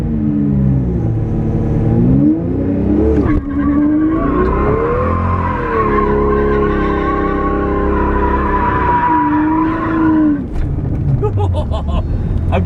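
A widebody Toyota Supra fitted with a twin-turbo V12 does donuts, its engine held at a loud, wavering high rev for about ten seconds while the tires skid and squeal, then it drops off.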